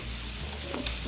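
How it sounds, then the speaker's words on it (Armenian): Chopped onion frying in oil left in a pan after cooking veal liver, a soft continuous sizzle, faint and close, with a brief clink near the end. "նույն յուղի մեջ տապակելու եմ հերած լուկ սոխը"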